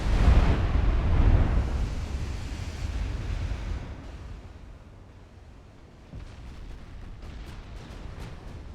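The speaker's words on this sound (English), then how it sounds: "the main wave of torpedoes starting to score hits" Torpedo hits explode against ships in the naval strategy game Ultimate Admiral Dreadnoughts, a heavy rumbling blast at the start that fades into a long low roar, with lighter follow-up booms toward the end.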